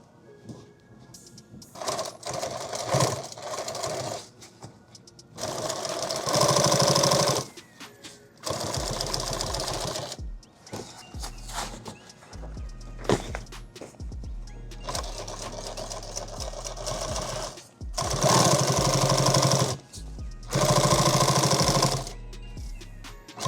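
A sewing machine sewing an 8-mag war bag runs in several loud, close, fast-rattling bursts of a few seconds each, separated by pauses filled with fabric handling and clicks.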